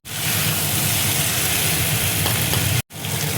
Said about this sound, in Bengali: এঁচোড়টা দেখো ভালো করে ভেজে নিয়েছি।